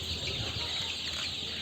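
Twenty-five-day-old chickens cluck and squabble inside a shed, a busy, moderately quiet flock chatter over a steady background hum.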